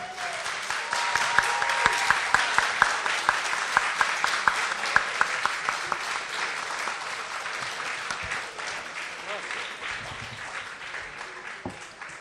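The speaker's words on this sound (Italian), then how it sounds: "Un applauso." An audience applauds at a gaming convention talk, a dense steady wash of many hands clapping that fades slightly toward the end.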